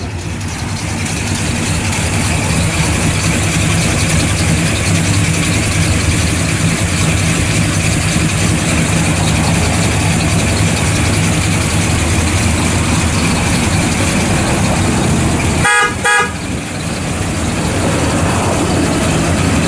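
A 1963 Chevrolet Nova II SS with factory ram horn exhaust manifolds and dual exhaust idles loudly and steadily, its even mechanical rumble broken by a brief clattering burst near the end.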